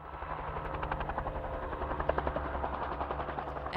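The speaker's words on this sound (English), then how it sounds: "A helicopter chasing wild Mustang horses across the Californian range." Helicopter chasing wild Mustang horses across the Californian range, a steady rhythmic rotor thumping with a droning engine, fairly loud and continuous, no voices.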